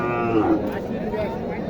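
A Sahiwal or Gir cow lets out a low, drawn-out moo nearby at a cattle market in Naogaon, Bangladesh, while people talk in the background.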